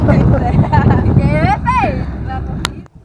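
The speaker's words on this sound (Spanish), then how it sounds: "está un poquito ventoso esta área" Wind rushes and buffets outdoors over water on a fishing trip in a steady low roar, with people talking over it close by.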